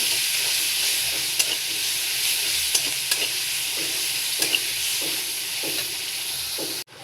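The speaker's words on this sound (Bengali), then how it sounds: "এই পেঁয়াজগুলো একটু হালকা করে ভেজে নিতে হবে" Onions fry lightly in a pan with a loud, steady hiss of oil, marked by occasional spoon clicks and scrapes as they are stirred, ending in a sudden bump.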